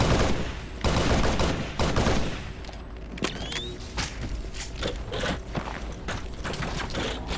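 Weapons firing in the Halo SPV3 video game, with dense, repeated shots and impacts laid over a busy din of battle, running steady and fairly loud across the whole stretch.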